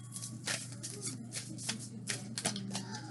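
A deck of tarot cards is shuffled by hand, a rapid series of crisp papery riffles and slaps in close succession, near and clear, with a low hum underneath.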